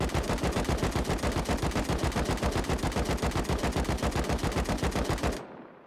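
AK rifle in a video game firing one long full-auto burst with a magazine extension fitted, shots rapid and evenly spaced, loud and close, running about five seconds before cutting off into a brief tail.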